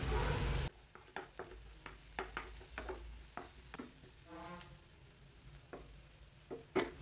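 Crushed garlic cloves added to onions frying in a pan for Kerala-style fish, with a steady low sizzle broken by repeated short clinks and scrapes of stirring, close and clear with no talking.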